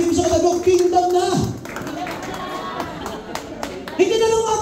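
Congregation applauding at a church worship service, a burst of many hands clapping mixed with crowd noise and a preacher's voice talking over it.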